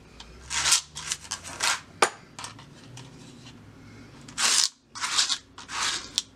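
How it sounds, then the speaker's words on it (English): A palette knife scrapes and spreads glass bead gel across paper, producing a series of close, gritty rasping strokes in irregular bursts separated by brief pauses. "I'm going to get some on my palette knife and just apply it to the paper"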